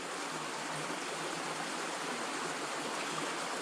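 A stream flowing on a countryside crag walk, a continuous even rush of water, broad and steady, close by with no other sounds.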